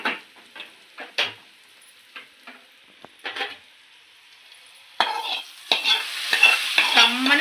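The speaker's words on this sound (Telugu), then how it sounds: "ఇవన్నీ బాగా కలుపుకొని ఈ పప్పుచారులో అయితే ఇప్పుడు వేసేసుకుందామండి." A tempering of hot oil with asafoetida is tipped into pappu charu, a lentil soup, and stirred: scattered scraping stir strokes first, then a louder, steadier crackling sizzle that builds and pops near the end.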